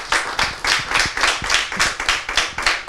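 An audience at a televised makeup competition claps for two candidates, a brisk, steady burst of applause that stays even and close throughout, with no talking over it.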